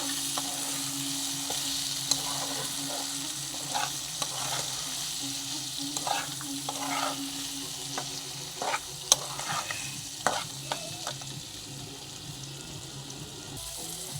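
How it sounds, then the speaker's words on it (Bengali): Green peas stir and fry in a hot wok, a steady sizzle broken by scraping clicks and knocks of the spatula, close and continuous with no talking. "কড়াইশুঁটিটা দিয়ে এবার একটু ভালো করে আর একটু নেড়ে নেব।"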